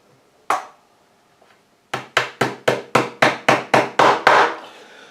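Repeated hammer blows punch a rivet into a toy model car's tail lamp held in a vise: one sharp strike, a pause, then about ten steady, evenly spaced metallic taps, close and loud with no talking.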